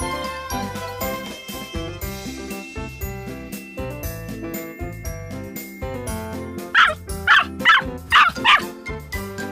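A small dog yips sharply five times in quick succession near the end, loud and close, over a bouncy children's tune with jingling bells.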